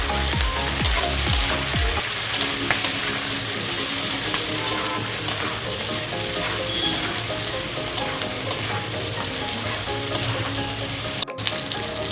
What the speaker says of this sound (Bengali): অল্প নুন আর হলুদ দিয়ে ভেজে নিচ্ছি।